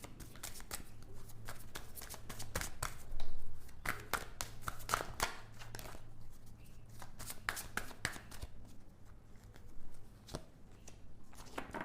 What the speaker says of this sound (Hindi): सो मैं एक कार्ड निकालूंगी